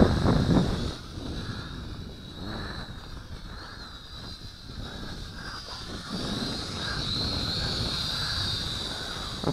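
Wind buffets a small Syma X5C quadcopter flying hard outdoors, a rough continuous rush with the whine of its rotors straining underneath, fairly loud and without talk.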